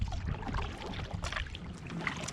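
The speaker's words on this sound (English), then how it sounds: "I was paddling" A single paddler drives an Oru Haven folding kayak at steady cruising speed through a sheltered cove, with a continuous close wash of water and paddle swishes and no talking.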